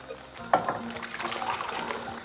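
Liquid being poured into a cooking pan while making chana masala, a short close splashing gurgle starting after a brief pause and running to the end.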